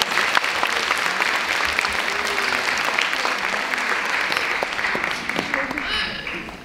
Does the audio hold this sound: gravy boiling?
no